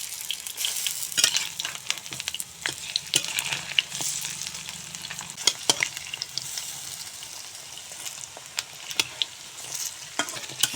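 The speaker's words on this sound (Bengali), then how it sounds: "এখন বড়া উল্টে দেব।" Chickpea dal fritters sizzle steadily in hot oil in a wok while being turned, with a continuous crackling fry broken by scraping stirs and clinks of a utensil, close and moderately loud, with no talk.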